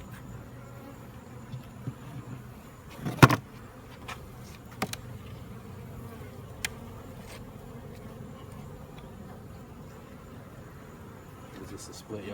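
Honeybees drone steadily in a bee yard around hives being opened, with a close buzzing insect, occasional clicks and knocks of hive equipment, and people talking nearby.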